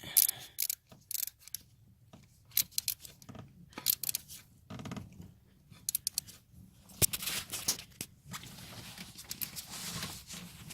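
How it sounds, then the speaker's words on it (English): A ratchet wrench works during a tune-up of a 2000 Ford Explorer's coil, spark plugs and wires, heard as short, irregular bursts of close mechanical clicking separated by quiet pauses. "If you don't have one of these ratchets, I recommend getting one."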